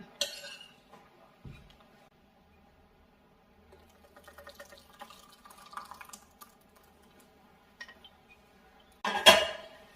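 Ground wheat batter being moved into another vessel, with a soft wet drip and faint scraping, sparse clinks of dishes, and a sharp close metallic clatter of a pot near the end.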